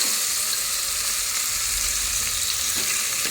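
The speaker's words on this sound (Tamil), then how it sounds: "இப்போ மிக்ஸ் பண்ணி விட்டுடலாம்." Fenugreek rice with salt is stirred in a hot frying pan, giving a steady, close hiss of sizzling with soft scraping from the mixing throughout.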